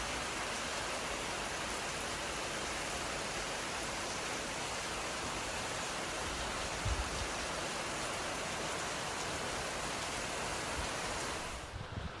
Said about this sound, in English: all afternoon it's been raining